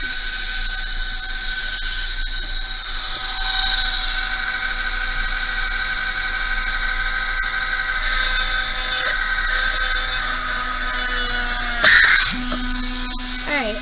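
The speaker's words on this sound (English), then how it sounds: "turn on my rotary tool, and then I'm just going to drill the" A rotary tool whines steadily at high pitch for the whole stretch, drilling a hole for beaded earrings, close by, with a sharp squeal near the end.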